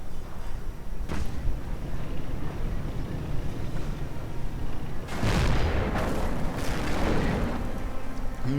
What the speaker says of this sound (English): More Piat fire against the Panthers.